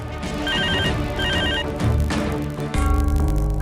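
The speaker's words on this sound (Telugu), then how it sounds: "ఆ ఫోన్ ఎవరో చూడు" Telephone ringing indoors in a Telugu TV serial scene, loud repeated bursts of electronic ring tone with background music underneath and no voices.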